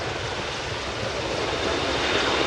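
A CH-149 Cormorant search and rescue helicopter flies during a squadron demonstration at an airshow, its steady broadband rotor and engine roar holding loud and continuous, swelling slightly toward the end with no talk.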